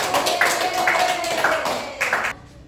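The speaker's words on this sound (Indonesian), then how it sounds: "tepuk tangan untuk kelompok 1" A small group of second-grade pupils in a classroom claps for a group of classmates, giving a steady run of rhythmic claps that stops abruptly, mixed with voices.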